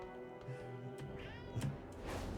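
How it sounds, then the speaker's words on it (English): A cat mount in a video game gives a soft, drawn-out meow over a steady low hum, faint and alone. "Love this cat mount."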